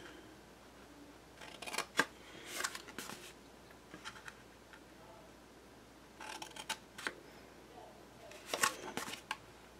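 Paper pieces for a handmade explosion box album being trimmed with scissors, several bursts of crisp snipping and rustling at close range, separated by quieter pauses.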